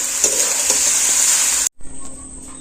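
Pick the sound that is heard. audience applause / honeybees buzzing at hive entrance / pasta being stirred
pasta being stirred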